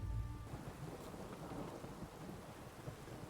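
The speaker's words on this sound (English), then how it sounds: "A storm, damn it." Steady rain pours down in a thunderstorm in The Witcher 3: Wild Hunt, with a deep rumble of thunder at the start and a dense, even hiss of falling water continuing throughout, fairly quiet and without voices.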